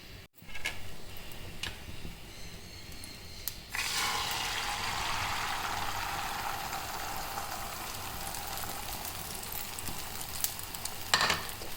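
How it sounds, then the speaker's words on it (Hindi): Egg dropped into homemade desi ghee in a hot pan, where a soft quiet hiss bursts into a loud, sustained close sizzle partway through, with faint ticks and clinks and no speech. "पैन मैंने चढ़ा लिया और जल्दी से अंडा फ्राई करते हैं।"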